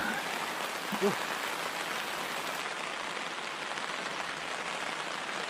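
Rain falling over a small reservoir in July, a dense, steady hiss of drops that stays even throughout, with a faint brief murmur of a voice near the start.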